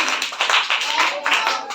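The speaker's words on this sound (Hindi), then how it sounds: "स्काउट ताली है 3 बार।" A group performing a scout clap, several sharp hand claps in a quick rhythmic pattern, loud and close, with voices mixed in.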